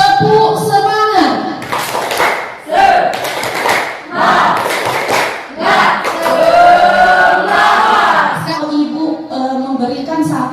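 A class in an Indonesian school morning session performs a rhythmic spirit clap, tepuk semangat, with loud group clapping and chanted voices in bursts, mixed with shouting and speech throughout.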